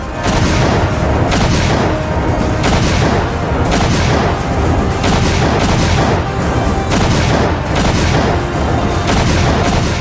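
Heavy booming artillery fire from a Sharang gun rolls continuously, with repeated loud blasts and rumbling echoes layered over one another, close and powerful, with no talking.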